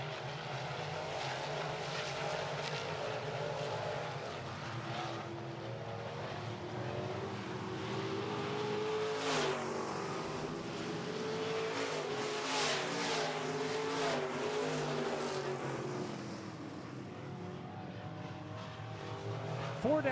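Midwest Modified race cars on a dirt track roar continuously, engines rising and falling as they pass at a distance, a steady faint drone throughout.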